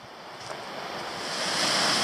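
Black Glen Falls, a small waterfall in Tasmania, gives a steady broadband rush of falling water, close and continuous and slowly swelling, with some wind on the microphone.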